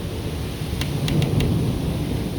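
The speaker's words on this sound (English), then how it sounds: "Thunder." Thunder rumbles low and steady beneath rainfall outside a house, a continuous loud wash with a few sharp crackles partway through.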